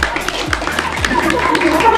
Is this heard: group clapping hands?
yes